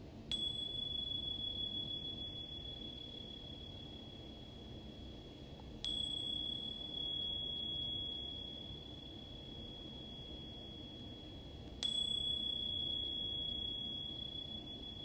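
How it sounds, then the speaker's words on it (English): Meditation chimes struck three times at even intervals, each a bright ringing strike that hangs and slowly fades beneath a steady low hum, heard alone at moderate volume as part of a yoga session. "once the sound of the chimes vibrate and resonate through your body"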